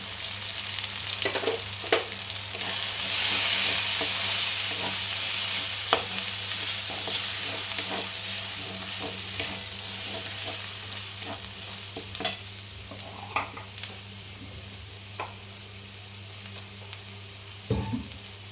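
Turmeric, cumin and Kashmiri chili powder fry in a pan for cholar ghugni, a continuous close sizzle with scraping stir strokes and occasional spoon knocks against the metal, and no voices.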